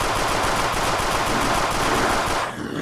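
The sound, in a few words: fully automatic WW2 gun firing in Unturned mod, video game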